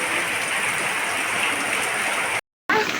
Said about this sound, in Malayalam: മഴ മാറണില്ല ഗൈസ്